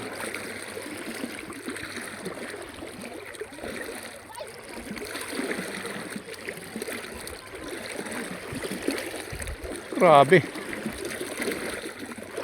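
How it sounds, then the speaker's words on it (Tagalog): Strong sea current swirling and churning near the shore, a steady rushing wash of water with a louder splash toward the end, while a person talks over it. "Yung dagat, umiikot-ikot."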